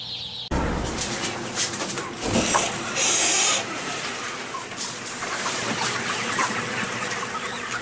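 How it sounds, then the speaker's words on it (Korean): Chickens clucking and fluttering at a poultry farm in Anseong, Gyeonggi-do, a busy flock heard close with bursts of wing flapping and louder squawks over a steady background din. "경기도 안성시 보계면에 위치한 닭 사육장을 다시 찾았다."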